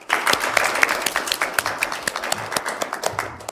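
A small group claps at a corporate event to welcome the CEO's wife for a speech, with distinct individual claps forming an uneven, moderately loud patter that thins toward the end.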